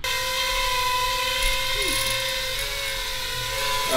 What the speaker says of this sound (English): this is half throttle. That sounds terrible. It's probably the fans rubbing in the duct.